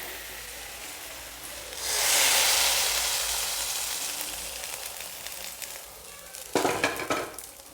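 Hot tempering of fried shallots and curry leaves poured into a dried-mango curry gives a sudden loud sizzle that surges, then slowly fades to a crackling hiss, followed near the end by a burst of scraping and stirring against the pan.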